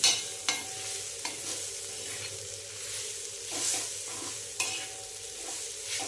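Onion tomato vegetable curry stirred in an iron pan, with repeated spatula scrapes and knocks against the metal over a low steady sizzle, close and without speech.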